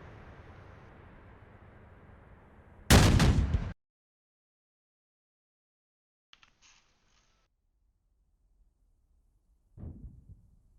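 Mortar team opening fire in a military video game: one loud, sharp broadband blast lasting under a second, then near silence with a faint distant crackle and a softer thump near the end.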